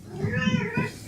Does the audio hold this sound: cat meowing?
yes